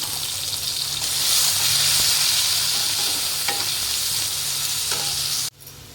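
Sliced onions and green chilli sizzle and crackle steadily in a hot pan, a close, even hiss with occasional pops and stirring clatter, cutting off abruptly near the end.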